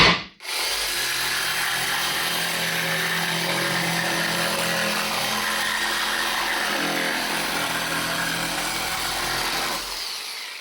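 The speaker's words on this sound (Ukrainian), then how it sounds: "Лобзиком різати під 45." A cordless jigsaw buzzes loudly and steadily through OSB board, a continuous rough cutting noise lasting about ten seconds, starting abruptly and stopping at the end.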